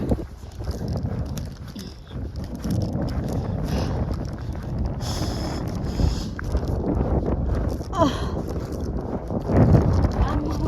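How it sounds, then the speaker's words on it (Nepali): Steady, cold wind roars and buffets the microphone outdoors, with people talking and footsteps under the gusts. "कस्तो हावा"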